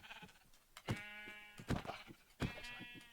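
Sheep in the Minecraft video game bleat several times in a row, each call a short, wavering, nasal bleat, fairly clear over a quiet background.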